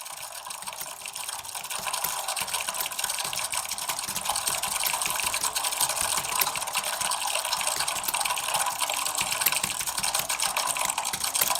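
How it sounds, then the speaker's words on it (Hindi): Fast, steady typing on a computer keyboard during a typing speed exam demonstration, a dense continuous clatter of keystrokes running for the full stretch without pause, close and fairly loud, with no talk. "अब देखो मैं यहाँ पर टाइपिंग करके दिखाता हूँ।"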